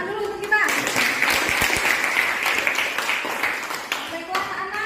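Applause from a classroom of children, a sustained burst of many hands clapping at once, loud and close, rising quickly and fading out near the end with some voices around it.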